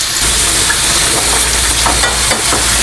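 Chopped onion hits a very hot wok with cumin seeds and curry leaves, giving a loud, steady, close-up sizzle with light stirring crackles throughout and no talking.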